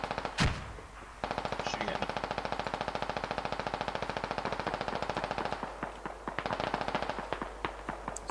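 Sustained machine-gun fire rattles in long rapid bursts in the military video game Squad, loud and fairly close, with a sharp single shot at the start and more scattered shots trailing off at the end.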